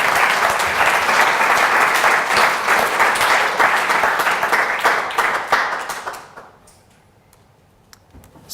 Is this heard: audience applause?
yes